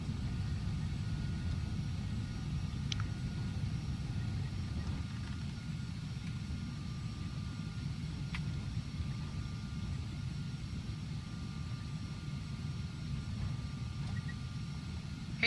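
Carenado EMB 505 Phenom 300 jet taxiing in FSX, a steady low jet engine rumble with a faint whine above it, droning on evenly at moderate level with a few brief clicks.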